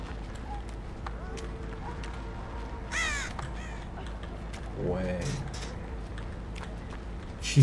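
Crows cawing in the Dead by Daylight game, two short bursts of harsh caws a couple of seconds apart over quiet ambient game sound, with a player talking.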